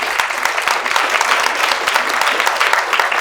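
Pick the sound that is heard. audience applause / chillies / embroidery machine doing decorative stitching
audience applause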